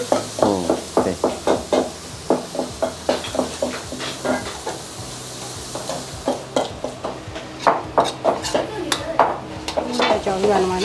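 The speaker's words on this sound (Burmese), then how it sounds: "ကြော်မယ်" Food frying in a pan in a restaurant kitchen, with a steady sizzle under rapid scraping and stirring strokes and clanks of a utensil against metal, close and busy throughout.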